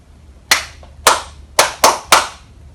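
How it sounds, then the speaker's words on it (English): Five sharp, close hand claps in an uneven rhythm, performed for children in a Year 1 and 2 lesson to copy back, ringing briefly in a quiet room. "we want you to copy that rhythm and clap it back to us"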